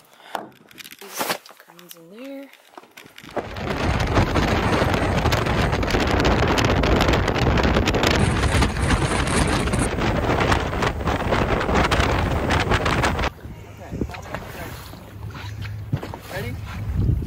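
Wind buffeting a small fishing boat on chilly water, a loud steady roar of gusts across the microphone lasting most of the stretch after a brief quiet start, easing toward the end.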